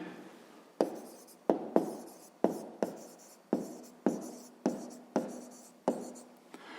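Pen on paper in a steady series of about ten quick strokes, each a crisp tap fading into a soft scratch, close up and alone without any voices.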